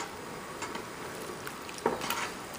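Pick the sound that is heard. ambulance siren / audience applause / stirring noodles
stirring noodles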